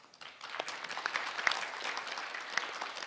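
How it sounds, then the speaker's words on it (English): Audience applause at an international security forum greets the incoming moderator, a steady wash of clapping from a seated crowd lasting a few seconds, fairly soft and without talk. "Please welcome him with a big round of applause."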